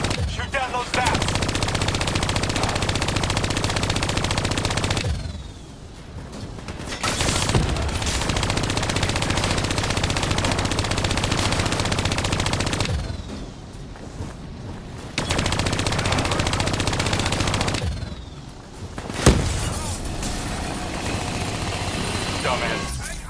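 Sustained bursts of turret machine-gun fire in Call of Duty Black Ops III, long loud volleys broken by a few short pauses, with rumbling explosions underneath.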